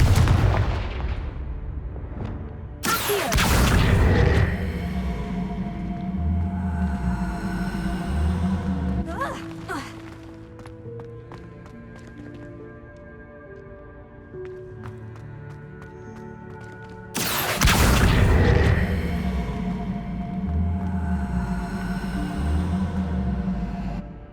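A fire spell in Hogwarts Legacy goes off with two loud, heavy explosive blasts about fourteen seconds apart. Between them a sustained game soundscape plays, with layered tones and a rhythmic pulsing rumble.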